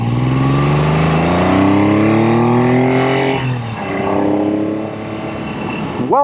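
A 1975 Triumph Trident T160 three-cylinder motorcycle engine revs loudly and steadily, rising in pitch, then drops and rises again with a harsh buzzy tone, close and alone with no talk.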